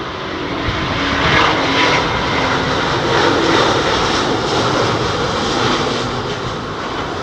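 An airliner comes in to land at London Heathrow in a strong headwind with a crosswind element, its engine roar loud, broad and steady throughout.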